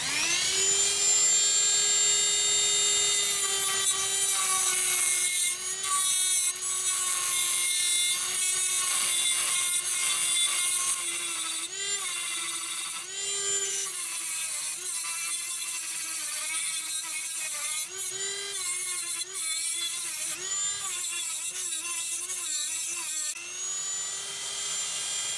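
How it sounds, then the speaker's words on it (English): A Dremel rotary tool cuts at a stuck piece with a loud, close, continuous high-pitched whine. Its pitch dips and wavers as the bit bites and frees up, with no talking. "what we're going to do is try and use the Dremel to get at least that top one out"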